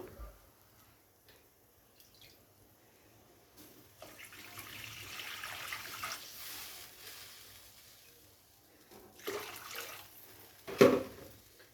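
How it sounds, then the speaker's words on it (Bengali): Water pours into a pan of Bengali tangra fish curry to make a thin gravy, a soft splashing stream that builds then fades, ending with a brief louder splash near the mic. "গ্রেভির জন্য পুরোপুরি জলটা দিয়ে দেবো"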